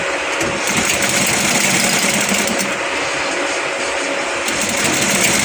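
A sewing machine stitching a kurti runs with a continuous, loud, steady mechanical whir and hum close by, without pauses or voices.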